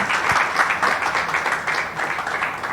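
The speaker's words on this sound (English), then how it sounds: "Let's welcome him with a round of applause." Steady applause from an audience at a corporate launch event for the all-new Renault Taliant, sustained clapping at even loudness throughout with no voices over it.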